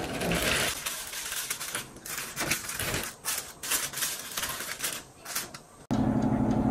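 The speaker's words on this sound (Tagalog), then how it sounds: "I-cover na natin ng aluminum foil yung ating pork." Aluminum foil crinkles and rustles in quick bursts, drawn over a roast pork in a roasting pan, followed by a brief muffled clunk.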